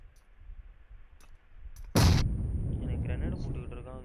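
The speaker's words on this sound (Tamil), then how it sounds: "எனக்கு கிரனேட் போட்டுக்கிட்டு இருக்காங்க" A grenade bursts in a shooter video game with one sudden loud blast, followed by a rumbling tail and scattered debris-like crackle, after quieter game sounds and faint distant thuds.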